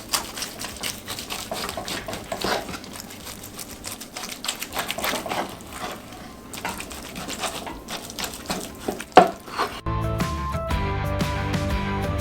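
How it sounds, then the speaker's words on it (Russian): A knife slices through glazed smoked ribs on a board with a steady run of sharp, close tapping cuts, then a denser burst of chopping near the end. "Нарезаем их."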